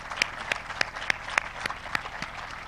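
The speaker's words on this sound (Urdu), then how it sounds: "ان عظیم بچوں اور بچوں کے لیے اور ان کے والدین کے لیے بھرپور تالیاں لگائیں" Scattered, sparse applause from an audience at a government ceremony honouring students and their parents, a series of distinct claps at a steady pace rather than a dense ovation.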